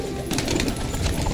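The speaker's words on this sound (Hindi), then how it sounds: "तो भाई कबूतर अपने बहुत अच्छे से फड़फड़ा रहे हैं" Pigeons caught inside a net flap their wings in quick, close bursts, a loud rustling flutter mixed with faint cooing, with no voices.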